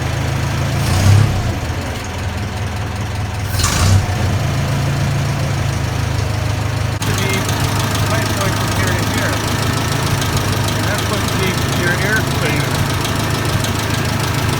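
A Massey Ferguson 65 tractor engine runs steadily with a loud, continuous low rumble, rising briefly twice as it is accelerated before settling back to an even running note.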